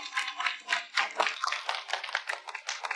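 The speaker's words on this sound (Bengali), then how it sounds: "স্বাগত জানাতে করতালি দিন।" Audience applause welcoming performers onto a stage, a dense burst of many hands clapping at once, lively and continuous for a few seconds, no talk over it.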